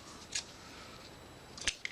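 Scissors trimming white ribbon and baker's twine on a snowman holiday card, two short crisp snips about a second apart, near and clear over a quiet background.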